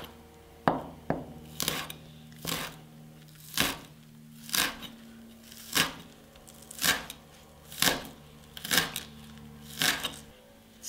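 Fresh herbs such as chervil and tarragon being finely chopped with a knife on a board, a series of about a dozen crisp, evenly spaced chops close up in a quiet room.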